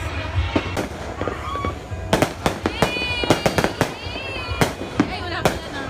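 New Year fireworks burst in a rapid string of sharp, loud cracks and bangs, crowded together with a few louder blasts, over a noisy background of people, with whistling streaks rising between some reports.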